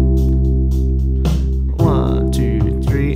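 Bass guitar plays a chord progression through the one, six, four and five chords along with a backing track, with steady low sustained notes and brighter attacks over about three seconds, loud and close.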